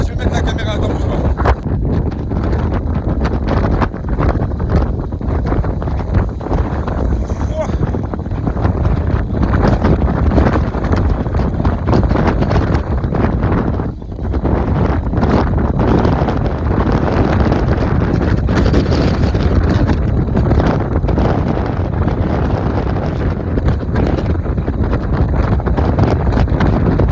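Strong wind buffets the microphone by a boat in port at sea, a loud continuous roar with gusting bursts throughout, and a voice speaks intermittently underneath.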